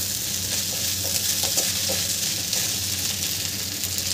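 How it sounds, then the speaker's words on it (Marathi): Sabudana khichdi frying in a pan on low to medium heat while being stirred, a steady close sizzle with soft spoon scrapes running throughout, no talking. "गॅस आपल्याला लो टू मिडियमवर ठेवायचा आहे आणि छान मिक्स करून घ्यायचं आहे।"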